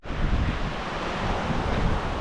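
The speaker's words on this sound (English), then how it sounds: "Yeah, it's Bright Angel Creek." Bright Angel Creek rushes past in a steady, broadband roar of flowing water, loud and close, with possible wind buffeting the microphone and no talk.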